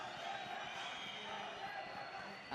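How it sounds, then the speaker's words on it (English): A Valorant Masters Santiago esports arena crowd at a PRX vs FUR match roars in a steady, dense wash that holds at an even level throughout, with voices mixed into the noise. "The roar of the crowd letting him know."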